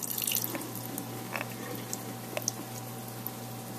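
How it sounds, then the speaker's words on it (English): Liquid draining from an opened metal can while making burritos, a faint patter of drips and trickling water over a steady low hum, heaviest at the start and then thinning to scattered drops. "Drain the can."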